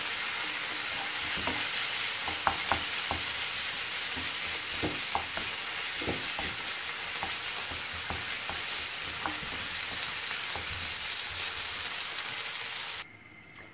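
Chicken filling for buns stirred in a hot pan, steady sizzling with repeated scraping and tapping strokes of a spoon against the pan, no talking.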